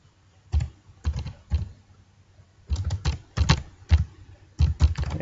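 Bursts of computer keyboard typing as a new track name is entered, quick clusters of close key clicks separated by short pauses, with no speech.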